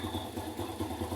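A motorcycle engine idles during a warm-up run, a steady, close chugging with an even pulsing rhythm and some light mechanical clatter, with no other sounds.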